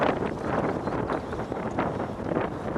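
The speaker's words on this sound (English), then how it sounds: "The wind's turned around slightly, very windy." Strong wind buffets the microphone beside a loch on a day of fishing, a rough, continuous rumbling roar that swells and dips in gusts throughout, with no talk over it.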